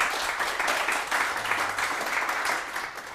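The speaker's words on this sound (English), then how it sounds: "A quick round of applause for Gabe Weinberg" Steady, dense audience applause from a seated crowd at a talk, continuous and moderately loud throughout with no voices over it.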